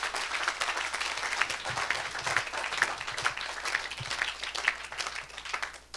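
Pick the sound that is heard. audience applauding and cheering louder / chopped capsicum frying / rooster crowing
audience applauding and cheering louder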